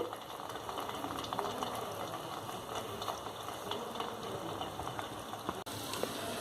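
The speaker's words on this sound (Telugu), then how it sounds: "లో ఫ్లేమ్లో వీటిని వేయించుకోవాలండి." Veg lollipops frying in oil over a low flame give a steady, dense bubbling sizzle that carries on evenly throughout, close by and without talk.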